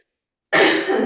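After a moment of silence, one sharp, close cough bursts out and trails off.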